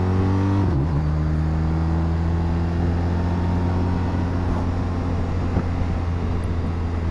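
A BMW R1250RT touring motorcycle accelerates on a country road, its engine tone dipping at a gear change and then droning steadily and loudly, with wind noise throughout.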